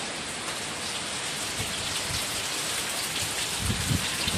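Heavy monsoon rain pours down on a foggy day in Baguio City, a steady, dense hiss of drops on surfaces that holds at an even, loud level throughout, with occasional low thumps underneath.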